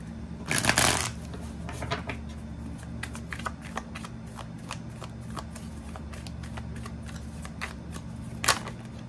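Tarot cards shuffled by hand, a loud riffle near the start followed by many soft, scattered card slides and taps over a low steady hum, with occasional quiet speech.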